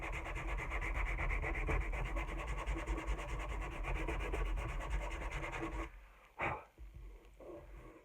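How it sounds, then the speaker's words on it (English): Sandpaper rubbed by hand over a small repaired dent, a close continuous scratchy rasp that stops abruptly, followed by a few soft knocks and handling sounds. "I'm just taking a little piece of sandpaper and just sand it."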